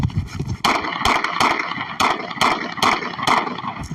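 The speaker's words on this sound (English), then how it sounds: "Officer Kirby again discharged his service weapon." A police officer fires his service pistol in a series of sharp, loud bangs, about six to seven shots in a fairly regular rhythm, echoing outdoors.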